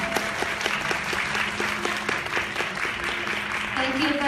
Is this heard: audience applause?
yes